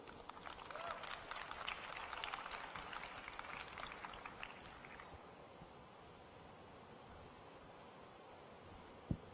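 Applause from the audience at a youth forum during an international festival, a faint, distant burst of clapping for about five seconds that then fades into quiet room noise.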